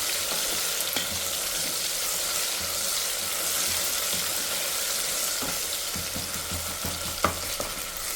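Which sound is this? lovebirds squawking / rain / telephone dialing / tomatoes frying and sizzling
tomatoes frying and sizzling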